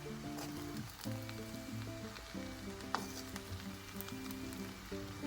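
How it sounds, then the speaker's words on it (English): Gizzard fried rice hisses and crackles steadily in a pan as it is gently stirred, a continuous close sizzle with background music playing beneath. "You give it a nice gentle stir to make sure the gizzard is combined well in the rice."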